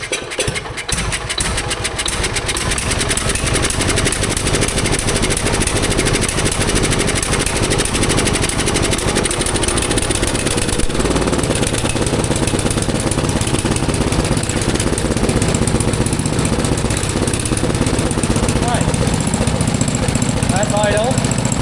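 A Lincoln Weldanpower 130 welder's small engine runs steadily and loudly after starting up, with a rough, continuous chugging drone and mechanical vibration throughout.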